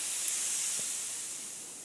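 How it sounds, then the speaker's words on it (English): Steady high-pitched hiss of pressurized air venting from a compressor on a cheap Aztec airbrush kit, continuous and fairly loud throughout, with no talking. "Just going to turn that off, and then just to release the pressure"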